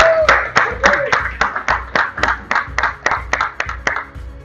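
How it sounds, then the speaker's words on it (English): Meeting attendees clap their hands in a short, close burst of applause, with fairly few people and each sharp clap distinct in an uneven rhythm over about four seconds. "Please give yourself a big round of applause."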